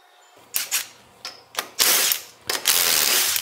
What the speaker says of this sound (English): Remove the 19 millimeter ring gear bolts and discard because they are not reusable.